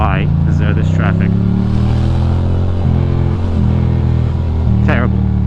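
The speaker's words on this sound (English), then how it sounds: "Why is there this traffic?" Road traffic heard from a moving motorcycle on a Sunday in New York City, with a loud steady engine drone and wind rumble throughout, a rider speaking over it, and brief squeaks and clatter passing by.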